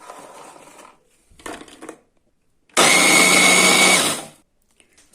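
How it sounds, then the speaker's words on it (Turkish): A food processor grinds a packet of petit-beurre biscuits into crumbs in a home kitchen, a loud steady whirring burst of about a second and a half following quieter clatter and handling noises. "Bir paket petibör bisküvimizi de rondomuza ekleyelim. Onu da güzelce çekelim."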